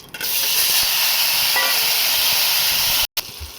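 Raw green banana pieces sizzling in hot oil in a pan with bay leaf and cumin: a loud, steady, close hiss that runs almost unbroken, with a brief cut near the end.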